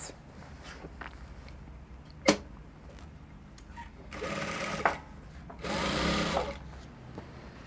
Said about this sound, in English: I will top stitch my seam allowance on the lining part.